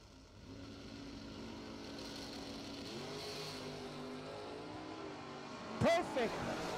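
A Corvette Roadster and an S10 launch side by side at a drag race, engines droning and rising in pitch at a distance under a track announcer's voice, with a sharp burst near the end.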